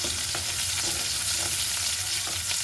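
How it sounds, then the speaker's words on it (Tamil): Sliced onions sizzle steadily in a hot pan while a spoon stirs and scrapes through them with soft, irregular scrapes, heard close with no voices. "அடுத்ததாக நாங்கள் வட்டி வச்சிருக்கிற வெங்காயத்தை போட போகிறோம். போட்டு ஒரு கிளறி விடுவோம்."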